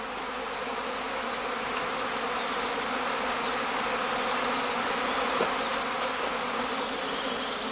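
A cluster of swarming honeybees in heathland beekeeping buzzes as a dense, steady drone of many wings, loud and close throughout, with no voices.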